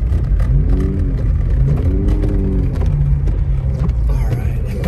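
A car pulls out of a snowy parking lot, its engine revving and rising in pitch through two strong surges before easing off, loud and close with steady road rumble throughout.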